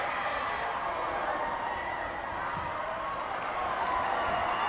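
Supporters from Clitheroe Royal Grammar School cheer at an under-13 small schools cup football match, a steady, dense crowd roar holding at even loudness throughout, with no clear individual voices standing out.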